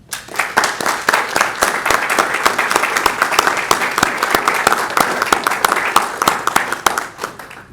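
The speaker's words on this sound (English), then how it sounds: "I'd just like to give all of the candidates a round of applause" Loud, close applause from a community audience for the candidates at a local election forum, with crisp individual claps building quickly into a full, steady round of clapping before fading out.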